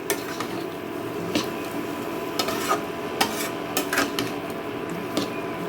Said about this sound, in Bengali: এখন আমি এগুলোকেও মশলার সাথে এক থেকে দু মিনিট একটু কষিয়ে নেব